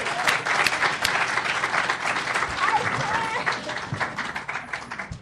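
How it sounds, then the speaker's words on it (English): A conference crowd applauding a guest coming to the stage, dense rapid clapping that stays lively throughout with a host's voice talking over it. "Keep the applause going."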